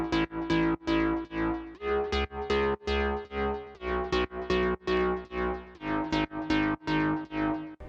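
An EDM house drop built in FL Studio, with steady four-on-the-floor kicks pumping the chords and synths through Nicky Romero Kickstart sidechain ducking. It plays loud and alone, swelling back up after every beat.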